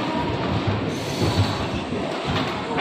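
A MEMU express train from Kakinada pulls into Vijayawada Junction, running thirteen minutes late, with a continuous loud rumble and rattle of wheels on rails that stays close and steady throughout, with no voices.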